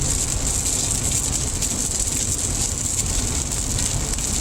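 Light rain heard from inside a car on the highway, a steady hiss of drops and tyre spray over a low road rumble, continuous and fairly loud with no talking.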